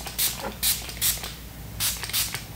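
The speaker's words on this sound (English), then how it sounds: "I'm just gonna spray it on each side heavily." A spray bottle of hair product hisses in quick short bursts, about six pumps in a row, close and fairly loud.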